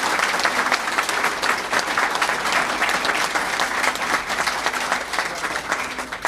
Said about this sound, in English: a round of applause, I would appreciate it.